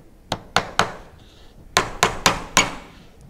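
Nails are hammered into a wooden birdhouse in sharp, close, loud strikes: three quick blows, a short pause, then four more in steady rhythm.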